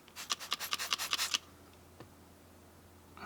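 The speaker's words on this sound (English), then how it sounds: "Let's see if we can scrub that off." Rapid, rhythmic scrubbing strokes of a brush rubbing grease off a car seatbelt buckle, about a dozen close, raspy scrapes in quick succession, then near-quiet with a faint tap.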